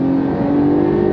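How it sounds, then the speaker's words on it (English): The flat-six engine of a Porsche 911 Carrera revs hard on throttle, a loud, steady, close-up engine roar that holds for the whole moment with no voices. "the flat six, even in this 911 Carrera, has such a great sound to it"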